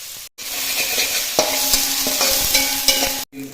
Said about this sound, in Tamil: இந்த வெங்காயத்தையும் போட்டுடணும் போட்டுட்டு அந்த பச்சை வாசம் போகிற வரைக்கும் லைட்டாக வதக்கணும்